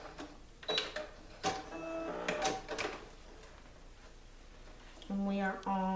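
A home sewing machine back-stitches a seam on stretchy leggings fabric: scattered clicks and clunks of handling, then a short, loud, whirring motor run near the end.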